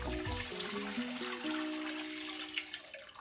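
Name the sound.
water poured into a pot of plant-based gumbo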